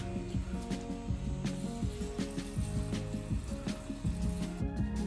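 Running water splashes and patters steadily, like a stream poured from a hose or can, with small clinks and rustles mixed in.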